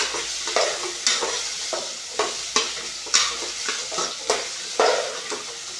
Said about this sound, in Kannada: ನೋಡಿರಿ ವಟಾಣಿನೂ ಸ್ವಲ್ಪ ಫ್ರೈ ಮಾಡಬೇಕು ಎಣ್ಣೆದೊಳಗೆ